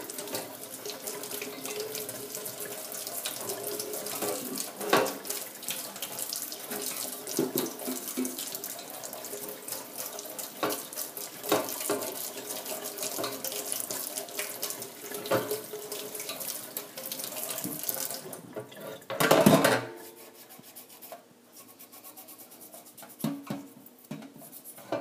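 Stove grates being washed under a running kitchen tap, with steady water splashing and hissing into the sink, broken by a louder gush near the end before the flow thins out.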